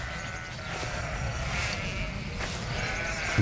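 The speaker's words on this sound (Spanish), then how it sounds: "Las ovejas son perfectas para mantener el paisaje limpio." Sheep graze in open meadows of Germany's Eichsfeld green belt, giving a few wavering bleats over a steady outdoor hiss of wind and countryside, moderately close and fairly loud.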